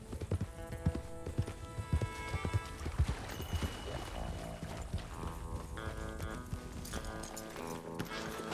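Hoofbeats from horses galloping in Red Dead Redemption 2 run close and continuous, mixed into dense game music and ambience with a few clipped thuds.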